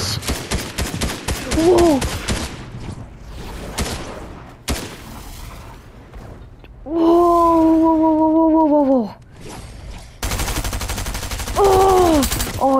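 Rapid bursts of Fortnite gunfire crackle in quick succession at the start, then return in short volleys later, loud and close, with a brief exclamation and tonal game sounds between the shots.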